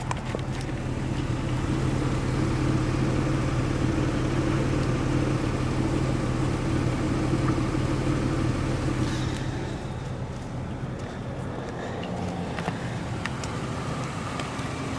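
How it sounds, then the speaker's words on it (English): A 2002 Buick Regal LS idles with a steady, droning exhaust hum heard close by, its tone dropping and thinning after about nine seconds into a quieter rumble, with no talking. "There's the exhaust."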